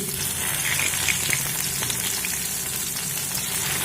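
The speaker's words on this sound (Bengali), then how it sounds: "এক মিনিট মতো লো ফ্লেম করে ভেজে নেব" Ten to twelve cloves of chopped garlic fry in oil over a low flame, making a continuous close crackling sizzle with small pops and no voices.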